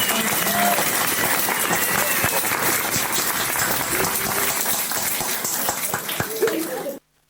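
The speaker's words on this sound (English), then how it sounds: "Let's have some more applause, please, for John and Carol." Folk club audience applauding performers John and Carol, a dense, steady wash of clapping that holds for about seven seconds, then cuts off abruptly.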